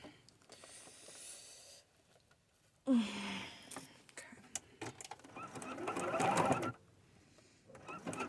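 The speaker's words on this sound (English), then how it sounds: "I'm definitely sewing through a pin now" A sewing machine runs in short uneven bursts while sewing skirt fabric from upcycled material, catching on a pin, with quiet handling noises between the runs.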